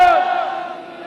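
A crowd roars a Sikh jaikara slogan in unison, one loud sustained collective shout that swells and then fades within about a second.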